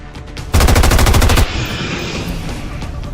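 Automatic gunfire in the video game XCOM 2: a loud, rapid machine-gun burst lasting about a second, followed by a fading rumble and game ambience.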